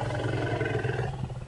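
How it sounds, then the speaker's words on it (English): A wild elephant's low rumble call, played back to another elephant, sounds as a deep, sustained, throaty rumble with a pulsing, layered tone, heard close and alone. "a rumble specific to an elephant named Margaret is played back to her"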